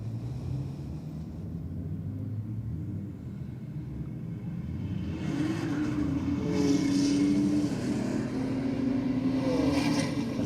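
A BMW M2 and a Falcon race side by side down the Sydney Dragway strip, a distant engine roar building from a low rumble into a louder rising drone toward the end.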